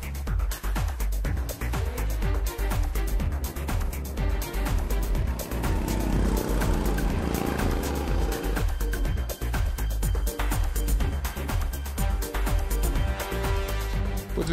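Go-karts run laps on an asphalt karting track. A loud, continuous engine drone and buzz fills the whole stretch with little letup, close and alone.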